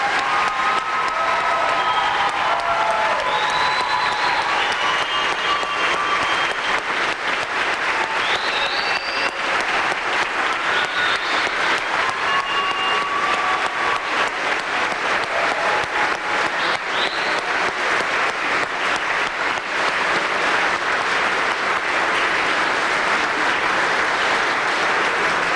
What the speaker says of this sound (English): Let's give all of our new police officers a round of applause.